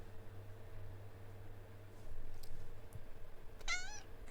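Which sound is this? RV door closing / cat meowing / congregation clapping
cat meowing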